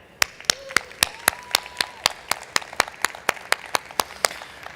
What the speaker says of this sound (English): I want to start by raising a round of applause for our membership team